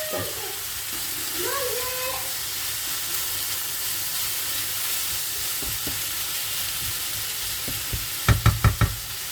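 Stuffed potato filling with parsley sizzles steadily in a pan, a constant frying hiss throughout, with a few sharp knocks of a utensil near the end.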